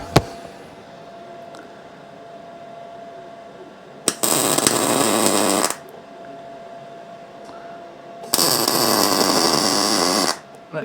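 Two long bursts of a welder laying a blob onto a Royal Enfield bobber frame, each a steady broadband crackle of about one and a half to two seconds, separated by quieter workshop hum.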